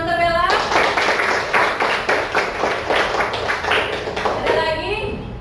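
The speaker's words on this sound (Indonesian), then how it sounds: "beri tepuk tangan untuk Bella" A classroom of students claps for a classmate, a burst of brisk, fairly close clapping lasting several seconds, with a voice speaking briefly at the start and end.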